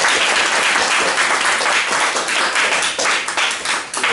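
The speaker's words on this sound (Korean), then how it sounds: "박수" A church congregation at Oasis Church claps together in steady, dense applause that fills the whole stretch, loud and close, with a slight dip and recovery toward the end.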